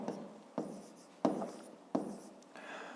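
A pen scratches across paper in five short strokes spaced roughly evenly, each a quick rasp that fades, heard close and quiet with no talking.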